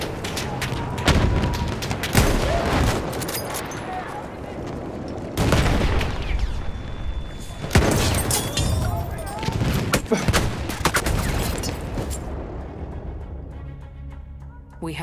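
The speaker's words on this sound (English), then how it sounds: "Machine gun, one of theirs." Enemy machine gun and battle fire in Battlefield 1 online gameplay, with loud rapid bursts and booming shots coming in several dense clusters amid a chaotic wartime din.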